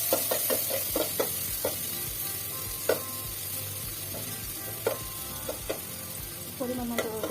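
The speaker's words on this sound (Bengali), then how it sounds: "পেঁয়াজ কুচি দিয়ে দিয়েছি তেলের মধ্যে।" Chopped onion sizzles and crackles in a modest amount of oil with turmeric, chili, and coriander powder. A spoon knocks and scrapes against the pan in irregular strokes, close and loud, with no talking.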